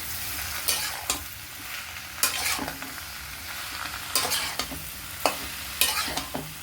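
Mashed banana chechki is stir-fried and mixed in a pan, giving a soft background sizzle broken by repeated scraping strokes of the spatula at irregular intervals, close and clear with no talking.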